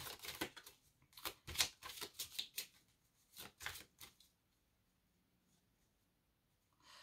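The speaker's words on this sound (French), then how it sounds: "Je vais remélanger un peu pour ressortir une carte." Tarot cards being reshuffled: a run of crisp, rapid card flicks and riffles in bursts over the first few seconds, then near silence.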